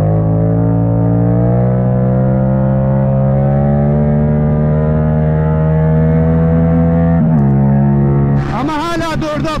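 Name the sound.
Yamaha MT-07 motorcycle with Akrapovic exhaust accelerating in third gear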